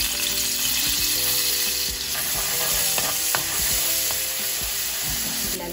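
Minced garlic fries in hot olive oil, a dense, loud, continuous sizzle up close with scattered crackles and light stirring clicks throughout, no one speaking.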